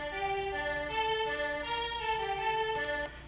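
A sustained MIDI string ensemble plays through a television's built-in speakers, smooth layered tones holding chords for about three seconds before fading, no voices present.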